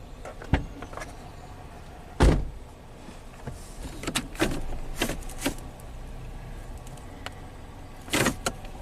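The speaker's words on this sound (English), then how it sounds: "Or open the door." A Ford Escape car door handled and opened, with several sharp clicks and thumps of the latch and door scattered over a quiet interior background, close and distinct, no talking.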